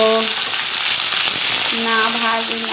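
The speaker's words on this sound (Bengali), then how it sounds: "আমি প্রথমে ভালো করে ভেজে নিচ্ছি আমগুলোকে" Steady loud sizzling of mango pieces frying in a hot pan, continuous throughout, with a faint tonal hum coming and going in the background.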